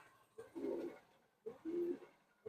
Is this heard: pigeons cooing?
yes